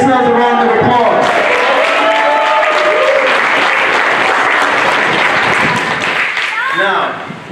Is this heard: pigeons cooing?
no